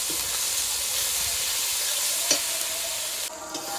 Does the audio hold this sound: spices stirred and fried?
yes